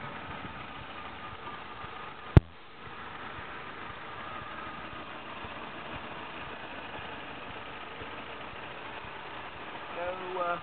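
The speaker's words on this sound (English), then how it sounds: "so you can have a quick listen to the engine. She's purring away very nicely at the moment" Volvo S40 car engine idling smoothly with the bonnet open, a steady low hum that carries on throughout, broken by one sharp click early on.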